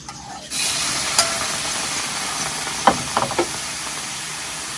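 Cleaned mole crickets roast in a pan with a steady, close hiss and sizzle, broken by a few sharp scrapes and knocks as they are stirred.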